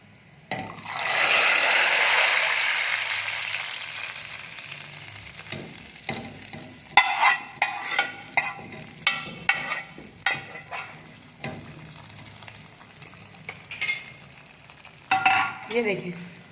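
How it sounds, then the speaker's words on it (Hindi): Onions fried in hot ghee are poured into cooked arhar dal for tempering: a loud hissing sizzle bursts up, then fades into softer bubbling and a run of spoon stirs and clinks on the pot. "अब इसके अंदर हम लगाएंगे प्याज का बघार"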